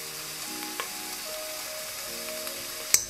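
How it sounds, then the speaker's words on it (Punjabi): Onion and garlic fry with turmeric in a pan, a soft, even sizzle with faint scraping. A small sharp knock lands near the end. "ਪਿਆਜ਼ਾਂ ਨੂੰ ਭੁੰਨਣਾ, ਚੰਗੀ ਤਰ੍ਹਾਂ ਲਾਲ ਕਰਨਾ"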